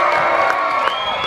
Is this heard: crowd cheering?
yes